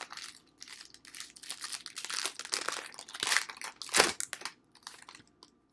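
Pokemon Sword and Shield card pack torn open and handled, crinkly foil wrapper crumpling and rustling in bursts, close to the microphone, with a louder tear near the end.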